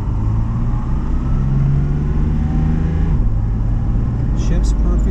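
A 1970 Mercedes 280SL's engine hums steadily while driving, a continuous close rumble holding even with a brief shift in pitch midway, and voices talking over it.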